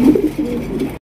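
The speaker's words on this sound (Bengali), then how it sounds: "এখানে রয়েছে খুবই সুন্দর এক জোড়া আপনার গিরিবাজ কবুতর দেখতে পাচ্ছেন" A pair of large giribaj pigeons coo in low, throaty, rolling phrases close by, loud and steady for about a second before stopping abruptly.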